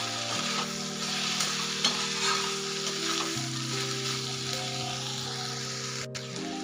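Crushed peanuts being stirred into a dry bottle gourd curry in a sizzling pan, a soft, steady frying hiss with scraping spoon strokes, close up and quiet, under a low steady hum.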